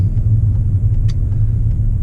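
A 2019 Toyota Camry creeps through a traffic jam, heard as a steady low engine and road rumble with no voices.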